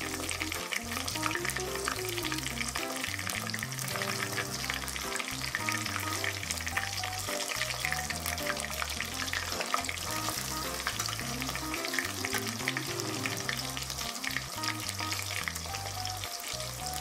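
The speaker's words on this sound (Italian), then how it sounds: "ho messo a scaldare l'olio e ho iniziato a friggere." Steady, dense sizzling and crackling of chicken cutlets frying in hot oil, continuous and close throughout, with no voices.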